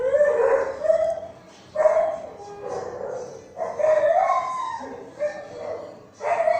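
Several dogs barking and howling in a noisy, overlapping chorus, bursts of yips and drawn-out howls coming and going at moderate distance.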